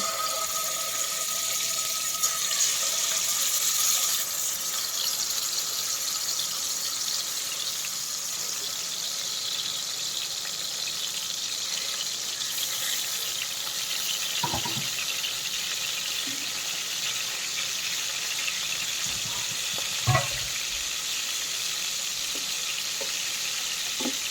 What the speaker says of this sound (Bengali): তেলটা গরম হয়ে গেছে, এখন আমি মাছগুলা দিয়ে দেব।